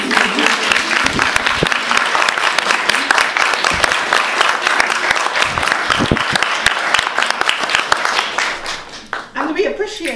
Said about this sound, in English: give all of these women a thunderous round of applause